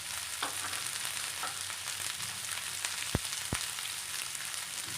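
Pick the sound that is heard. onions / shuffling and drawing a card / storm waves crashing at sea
onions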